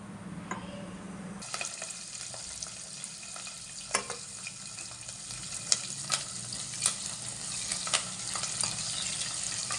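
Mustard seeds and cumin fry in two spoons of hot oil for a dal palak tempering, making a dense, continuous close sizzle that begins abruptly, with scattered sharp pops and crackles throughout.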